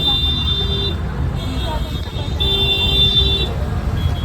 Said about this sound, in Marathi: ट्रॅफिक आहे